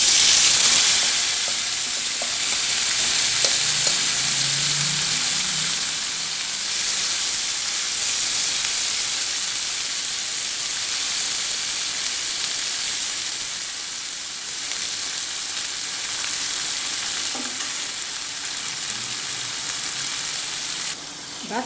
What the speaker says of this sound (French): Après j'ajoute l'oignon que j'ai mariné.